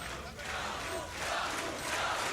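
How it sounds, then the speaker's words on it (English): Crowd at the ESL One Katowice 2015 CS:GO quarterfinal between Keyd Stars and Virtus Pro on Overpass, a continuous broadband roar of cheering arena spectators that swells slightly toward the end. "And the crowd cheering him on."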